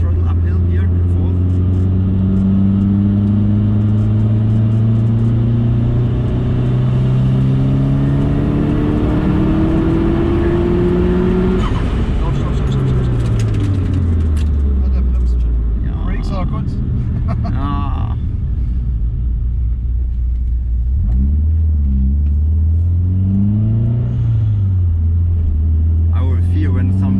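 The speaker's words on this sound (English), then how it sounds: "Give it another full throttle uphill here, fourth." A car engine pulls hard under full throttle uphill in fourth gear, its drone rising steadily in pitch as it climbs, then dropping and revving again; steady road rumble throughout.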